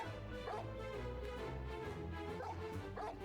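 Dogs bark and yip in an Animal Farm audio drama, several short barks scattered over a steady, dense background of other sound.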